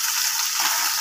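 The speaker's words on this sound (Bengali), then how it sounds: "একটু ভাজা হয়ে গেছে, আর একটু ভাজা হয়ে যাক।" Fish sizzling in hot oil in a frying pan, a steady bright crackle at moderate loudness, close up and without voices.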